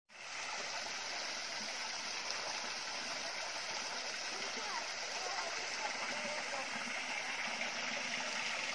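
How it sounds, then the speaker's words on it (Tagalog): A small waterfall stream runs in a steady, even rush of water from start to end, faint and continuous. Low water in hot weather. "So mo ni among nakit-an nga gamayng busay diri."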